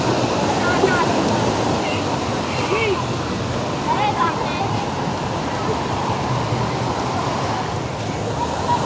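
Ocean waves and strong current washing onto a beach, a continuous roaring surf that fills the background throughout, with faint distant voices and possible traffic mixed underneath.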